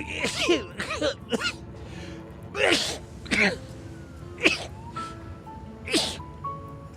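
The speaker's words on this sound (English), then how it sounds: "Sneezing time." Several sharp, breathy bursts in a row, like sneezes or coughs, close and fairly loud, over a quiet background hum.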